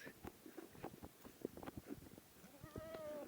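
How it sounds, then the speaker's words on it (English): Goats grazing at a farm give scattered soft rustles and chewing sounds, then one bleats clearly near the end, quiet and close. "We have some of the goats around here."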